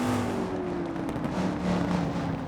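A V8 Supercar engine roars in EA's V8 Challenge (2002) at the Adelaide Street circuit: a loud, continuous engine drone that holds a steady pitch and shifts slightly, with no talk.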